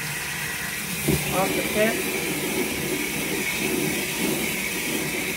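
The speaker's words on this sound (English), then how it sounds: "So then I'm just filling this with hot water." Hot water runs from a tap into a container in a steady, rushing hiss, while a person talks briefly over the flow.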